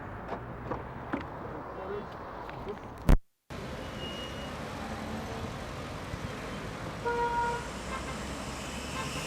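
A CNG-powered car drives through traffic, giving a steady low road rumble with a brief horn toot early on, a short sharp break midway, and continuing engine and traffic noise afterwards.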